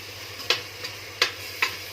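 A spiced mixture for chicken stuffed with rice, seasoned with nutmeg, is turned in a bowl or pan, giving three crisp scraping strokes over a low background hum.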